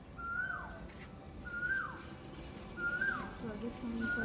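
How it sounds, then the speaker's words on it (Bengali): An Asian koel, a cuckoo, calls outdoors in a clear rising whistle repeated about every second and a half, standing out over a constant low background rumble. "একটা ডাক, কোকিলের ডাক। এত সুন্দর ডাক ছিল"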